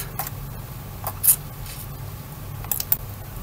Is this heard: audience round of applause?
no